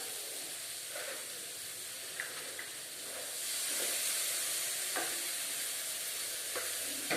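Gram flour mixture being stirred into potato curry frying in a pan, a steady loud sizzle and hiss with scattered scraping stirs and soft clicks throughout, no voices.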